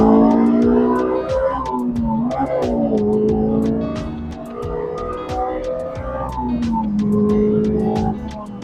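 A Honda S2000 engine accelerates hard in second gear past 4,000 rpm into VTEC, its tone climbing in several steady rising sweeps with a loud, continuous howl and no talking.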